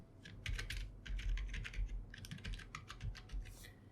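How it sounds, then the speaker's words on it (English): A password typed on a computer keyboard: quick, light key clicks in irregular bursts, close and fairly quiet, with no talking. "and then again type the password"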